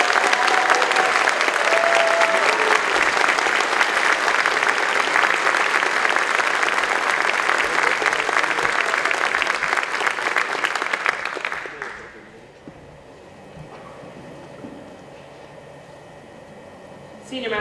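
Large audience applauding new Space Force Guardians at a recognition and patching ceremony, steady loud clapping for about twelve seconds, then an abrupt drop to quiet room tone.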